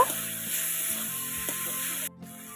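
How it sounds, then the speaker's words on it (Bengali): Potatoes sautéing in spice paste for a rohu fish curry give a steady close sizzle with faint stirring, holding for about two seconds before cutting off abruptly near the end. "মশলার সাথে আলুগুলোকে খুব ভালোভাবে কষিয়ে নেব"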